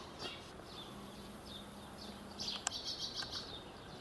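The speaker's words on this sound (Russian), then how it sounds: "еще толком не расцветало, а голуби уже вылазят" Small birds chirp in short high bursts at dawn, faint at first and then a denser, louder cluster of calls near the end, over a quiet outdoor background after a storm.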